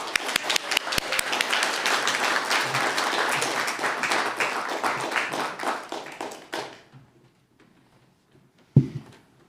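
An audience applauds steadily for about six seconds to welcome a speaker at a Sunday Assembly celebration marking 20 years of Maker Faire, then the clapping tapers off to near silence before a brief thump near the end.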